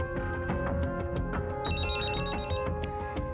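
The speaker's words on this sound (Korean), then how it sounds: "핸드폰에 남아있던 발신번호로 전화를 걸었지만" On an outgoing call from a mobile phone, a ringback tone sounds steadily and fairly faintly over a busy, tonal background, with no voices.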